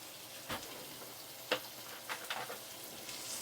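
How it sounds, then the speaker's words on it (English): Guanciale renders in a pan with a faint, steady sizzle broken by a few soft pops and spoon ticks, quiet and close, with no talking. "start the rendering of the guanciale"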